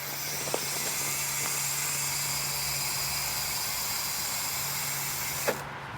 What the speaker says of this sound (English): How crispy do these wheels sound?